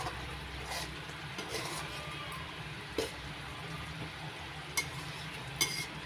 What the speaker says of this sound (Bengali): হালকা করে নাড়াচাড়া করে দিচ্ছি।